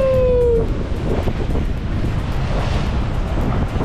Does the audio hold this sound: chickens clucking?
no